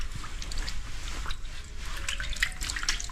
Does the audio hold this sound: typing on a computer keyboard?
no